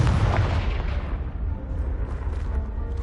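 A Confringo blasting spell explodes in Hogwarts Legacy on the PS5, a loud, close boom with heavy low rumble that rolls on steadily for several seconds before easing off, no talk.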